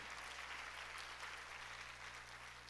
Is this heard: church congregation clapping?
yes